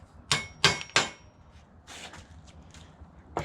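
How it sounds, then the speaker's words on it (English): Three sharp metallic hammer strikes on a cotter pin in quick succession, close and ringing, followed by softer scraping and tapping sounds, while working on a Jaguar MKII front seat. "This is where the hammer's needed."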